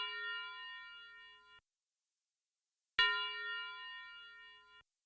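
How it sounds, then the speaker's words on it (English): A synthesized bell in an FL Studio beat rings out in two sustained, harmonically rich tones, each lasting about a second and a half and fading slowly, separated by a short silence, clear and alone. "And then I got a bell."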